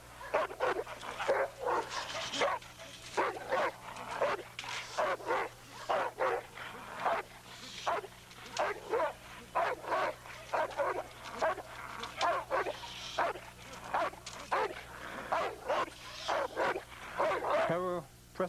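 Presa Canario, a large, imposing guard dog breed from the Canary Islands, barking in a steady run of loud, close barks and yips that keep coming for the whole stretch, with a low hum underneath.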